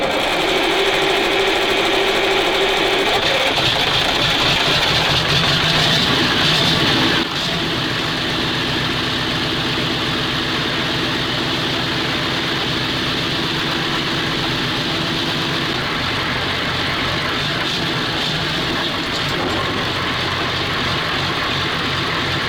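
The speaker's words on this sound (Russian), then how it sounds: "Запускаем мотор." A homemade V8 turbo engine in a swamp vehicle runs loud and steady, its tone shifting early on before it settles into a constant, even idle hum with a mechanical whir and no talking.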